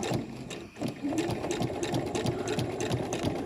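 A sewing machine stitches a curved seam on a backpack, running in a fast, even rhythmic chatter close by, with a brief pause near the start.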